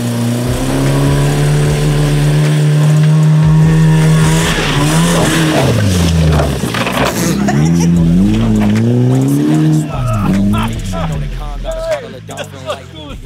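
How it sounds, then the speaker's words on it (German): A cheap BMW E36 charging up a muddy hill, its engine revving hard and loud with rising and falling pitch through several gear changes and wheel spin, close to the car, with people talking over it. "Also ich hole Schwung und baller hier jetzt hoch."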